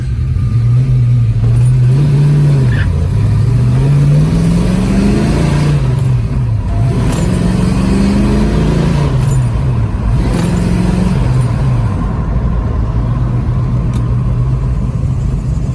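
A 1970 Ford Mustang Boss 302 V8 engine drones and revs steadily throughout while driving, its pitch rising and falling, loud and close with road rumble underneath.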